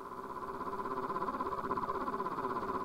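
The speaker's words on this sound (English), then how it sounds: "Some hard clipping, I guess." A harsh synthesizer drone with hard-clipping distortion and a fast pulsing flutter, held steadily for a few seconds before cutting off abruptly.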